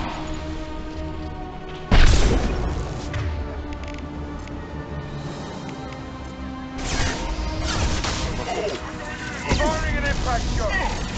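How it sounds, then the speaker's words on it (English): Impact shot fired in Mass Effect 2: a loud, sharp blast near the start followed by rumbling game effects, with more thuds and crashes later, layered over dialogue voices. "Firing an impact shot."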